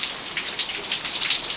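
Rain patters steadily inside a house, with dense, even hiss and scattered drops landing on surfaces nearby, continuous and fairly loud with no voices.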